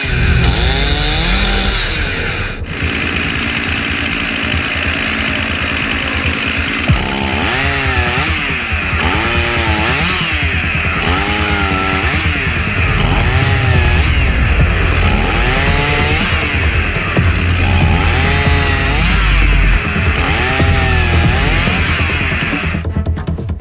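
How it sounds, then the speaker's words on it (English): A chainsaw runs loud and steady throughout, its pitch bogging and rising repeatedly as it bites into wood, with a brief sharp crack near the start. "he's letting the wood come to the chainsaw"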